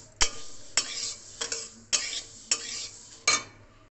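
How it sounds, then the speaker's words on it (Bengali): Mung dal being dry-fried in a pan for khichuri, with about six sharp scraping stir strokes at a steady rhythm, close and alone with a faint sizzle beneath. "খিচুড়ি করবো বলে ডালটা ভেজে নিচ্ছি, মুগ ডালটাকে"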